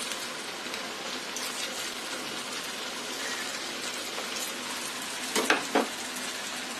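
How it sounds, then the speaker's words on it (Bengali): Snack dough fries in hot oil, giving a steady crackling sizzle with a few louder pops near the end, heard alone. "গোল্ডেন ব্রাউন কালার করে ভেজে নিতে হবে।"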